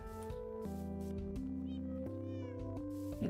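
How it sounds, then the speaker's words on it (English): Several cats meow close by in overlapping calls, a couple of rising and falling yowls standing out over a steady background tone, with no talking. "I hear the kitties all the way from over here"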